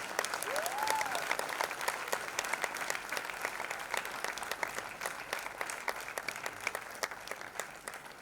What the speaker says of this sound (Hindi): एक बार करतल ध्वनि, जोरदार तालियां इन सभी के लिए।